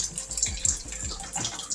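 A kitchen tap runs at a low, steady trickle while beef drains in the sink, the water close and continuous throughout.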